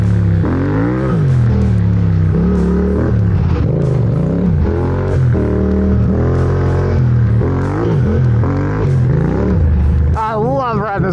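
An adventure motorbike rides off-road, its engine revving and surging in uneven bursts with clattering and wind buffeting, loud and close, while a rider talks over it.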